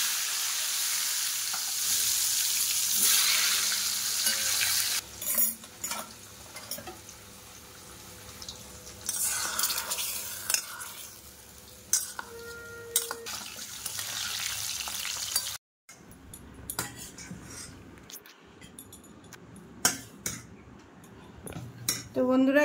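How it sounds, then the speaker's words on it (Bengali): Potatoes deep-fry in oil with a continuous sizzle, joined by metal utensil clinks and stirring scrapes; the frying hiss drops out briefly near the end as the pot clatter carries on. "এবার চলে গেল তেলে আলু"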